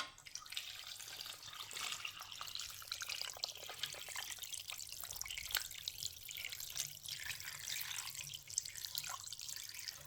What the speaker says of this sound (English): now that our brine has been cool, I'm just gonna go ahead and add it to my pork.